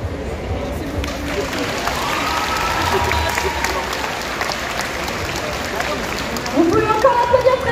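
Audience applause and cheering at a cosplay contest, a sustained crowd roar with clapping that swells near the end, loud and continuous.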